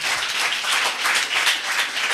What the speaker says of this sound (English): let's applaud this guy, please